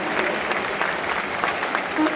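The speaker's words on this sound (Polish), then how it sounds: "Wielkie brawa!" Dense audience applause fills a Muay Thai gala hall, a Poland versus Thailand international match in Kalisz, steady and loud throughout with a faint voice near the end.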